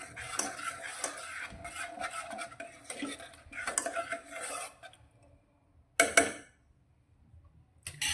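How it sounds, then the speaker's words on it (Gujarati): A spoon stirs warm water into cowpea curry in a pressure cooker pot, with repeated close scraping and clinking for several seconds, a quiet pause, then one sharp knock against the metal. "હવે સારી રીતે મિક્સ કરી લઈશું"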